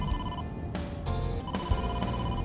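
A telephone rings in the video game AI: The Somnium Files. The electronic ring is clear and repeats in steady bursts, with no speech over it.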